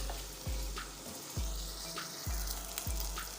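Chana dal being fried in a pan gives a steady close sizzle, broken by regular stirring scrapes roughly every second, fairly quiet, with no voice over it.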